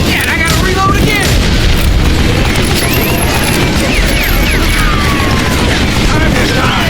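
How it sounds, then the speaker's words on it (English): Gun reloading in the video game Call of Juarez Gunslinger, aboard a train: mechanical clicks and ratcheting metal handling over a dense, steady roar of train noise and gunfire, with a voice speaking over it. "I gotta reload again"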